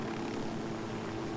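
Helicopter in the video game Ghost Recon Wildlands, a steady dense rotor and engine drone, loud and close throughout a brief moment.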